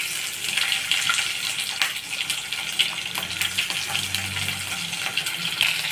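Garlic goes into hot oil with spices in a pan, making a loud, steady, hissing sizzle that fills the whole stretch with crackly spatter and no talking.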